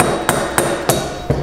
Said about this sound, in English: we're gonna whack the socket while prying on it a little bit